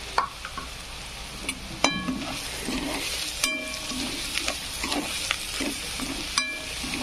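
Masala frying in a pan for pulao with Kashmiri red chilli and Kashmiri methi, a steady close sizzle broken by sharp metallic clinks and scrapes as a spoon stirs it.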